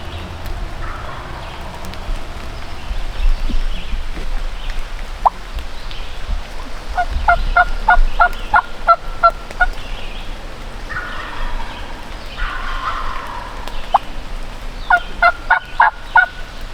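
Wild turkeys gobble in bursts at a distance, each rattling call repeated several times, with birds both farther off and closer, over a steady outdoor hush during a spring turkey hunt.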